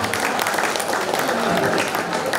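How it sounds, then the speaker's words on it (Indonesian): School farewell audience for graduating ninth-graders in Sumberasih claps in a dense, even burst of applause, moderately loud, lasting a couple of seconds. "Tepuk tangan Bapak Ibu."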